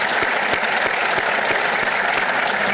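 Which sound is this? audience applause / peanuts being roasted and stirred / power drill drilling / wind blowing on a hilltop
audience applause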